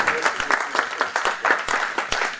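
Audience applause for Marcel at a project presentation to a diaspora gathering in Paris, many hands clapping close by in a brisk, uneven patter of distinct claps at steady loudness.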